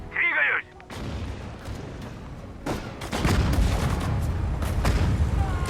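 Mortar fire and explosions in the WWII strategy game Sudden Strike 4 during the siege of Leningrad, a run of booming blasts and rumbling impacts building into a dense barrage, loud and without speech.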